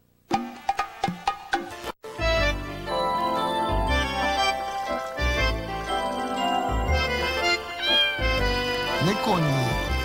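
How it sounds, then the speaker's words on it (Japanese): A cat meows in a 1991 Japanese TV commercial, its cries mixed into a dense bed of music and jingling sounds that runs continuously for about ten seconds. "猫にこんばんは。"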